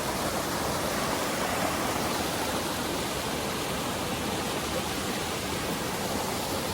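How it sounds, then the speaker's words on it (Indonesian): Curug Mega waterfall in Indonesia pours down in a steady, dense roar of falling water, loud and unbroken from start to finish with no voices. "Air mengalir ke bawah."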